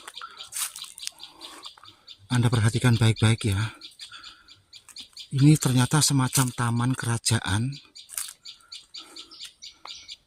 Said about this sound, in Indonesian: Dan yang terdengar dari tadi suara burung perenjak.